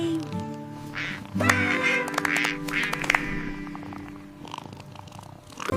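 Cartoonish duck quacks ring out over bright, bouncy music, with several squawky calls close up and a lively backing track.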